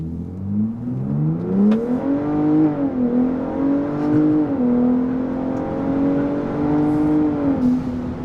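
A 2021 Ford Bronco Raptor with an aFe Scorcher power module accelerating hard in race mode, its engine note climbing steadily through the gears with brief dips at shifts, loud and droning from inside the cabin.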